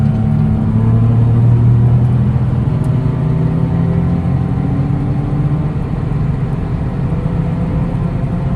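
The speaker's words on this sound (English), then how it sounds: "there's a car coming" A car passes on a wet road with a loud, steady low rumble and whir that holds close throughout, with no talk.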